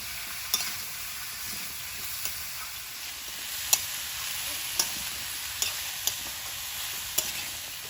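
Bottle gourd with turmeric and salt stirred in a pan, a steady soft sizzle with a few sharp clicks of the spoon against the pan scattered throughout, no talking.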